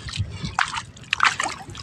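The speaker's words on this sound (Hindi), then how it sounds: "तो दोस्तों ऐसे हाथ में लेकर ऐसे छिड़काव करना है" Water splashed by hand across a spinach field, giving a few short, close sloshing splashes in a loose, uneven rhythm, fairly quiet, with no talk.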